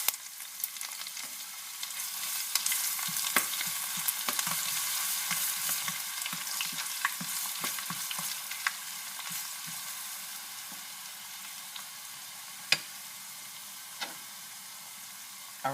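Curry leaves and garlic crackling in hot oil for Trini-style kitchri, a loud continuous sizzle with scattered sharp pops and spits that thin out toward the end.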